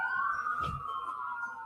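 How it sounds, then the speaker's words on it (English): A police-type siren wails outside in a steady, sustained tone, heard through walls at moderate distance, with a brief low thump partway through. "Thanks a lot, sirens."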